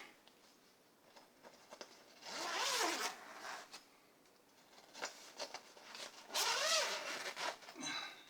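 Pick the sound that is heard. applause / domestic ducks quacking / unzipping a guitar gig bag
unzipping a guitar gig bag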